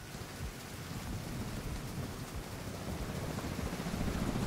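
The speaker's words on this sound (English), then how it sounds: "It's heavy rain." Steady heavy rain in a video game pours down in a dense, continuous hiss with a low rumbling underneath, building slightly louder toward the end.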